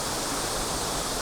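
Heavy spray and rushing water from a high-volume waterfall in autumn, a steady dense roar filling the whole clip close by, with no voices.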